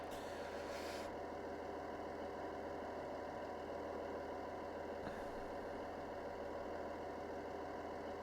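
A train engine idles in Train Sim World 4 on the Niddertalbahn line between Bad Vilbel and Stockheim, a steady low rumble with a constant whine above it; a brief click near the start and another midway break the drone.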